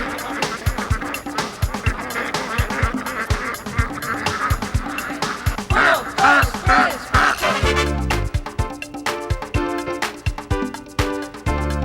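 Dense, loud chorus of many ducks quacking at once on a large duck farm, continuous and overlapping, with a clattering burst of noise toward the end.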